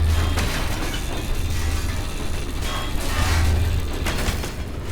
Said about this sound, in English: we'll go and farm the tow truck for some parts with the scrapper